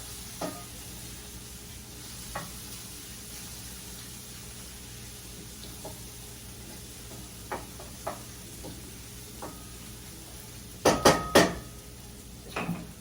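Garlic sizzles quietly in a pan under a low steady hiss, broken by scattered utensil taps and a short burst of louder clanks against the pan near the end.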